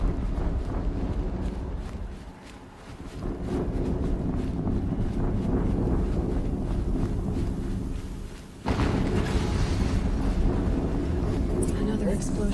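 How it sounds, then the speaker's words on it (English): Explosions in the Horizon Zero Dawn video game come as heavy, rumbling low booms under a steady windy roar, with a sharper, louder blast bursting in near the end. "Another explosion."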